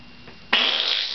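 One loud, sudden fart bursts out close to the microphone and trails off into a raspy sputter over about half a second, following a quiet hiss.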